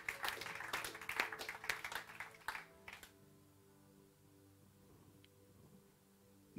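Church audience applauding the technical team, a dense burst of clapping for about three seconds that then cuts off into near silence with a faint low hum.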